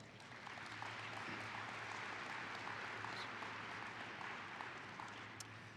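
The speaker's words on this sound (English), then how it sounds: "Give yourself a round of applause." Audience applause at a government training conference keynote, a steady wash of many hands clapping that holds at even strength for the whole stretch, with a low hum running underneath.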